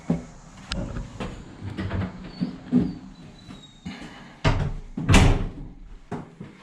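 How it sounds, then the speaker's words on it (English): A wooden door shuts inside a cave house among several knocks and bumps, with a sharp slam-like thud near the end standing out over quiet room tone. "Oh, shut the door, it's cool in here."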